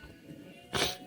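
A single short, sharp sneeze bursts out near the end, close and fairly loud after a quiet stretch of room noise.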